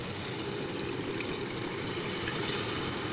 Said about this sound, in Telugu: ఈ పులుసు అనేది ఇందులో పోసేసుకుందాం